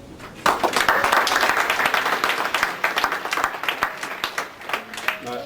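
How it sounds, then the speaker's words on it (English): Audience applause at a university awards presentation at Goldsmiths honouring award winners, a dense sustained patter of many hands clapping in a hall that gradually thins toward the end, with faint voices underneath. "thank you so much for being here to join us in applauding and celebrating their achievement"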